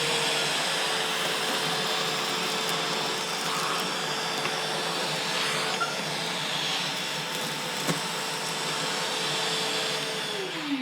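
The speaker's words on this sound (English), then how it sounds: "So let's pick up some of this debris. We'll have it on high first" A Milwaukee Packout vacuum runs on its high setting, picking up debris with a steady, loud motor roar that holds constant throughout, with small ticks and rattles of particles being sucked up.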